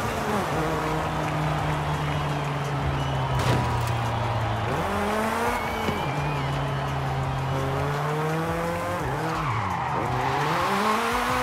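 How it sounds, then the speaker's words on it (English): A Mazda MX-5 RF is driven hard in Forza Horizon 5, a steady loud engine drone rising and falling through gear changes while the tyres skid and squeal through several slides. "I believe I've got a bit of gameplay of the Mazda MX-5."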